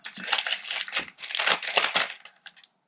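Plastic packaging around foam-packed model kit parts crinkles loudly and close in continuous bursts with a short pause midway, with no talking.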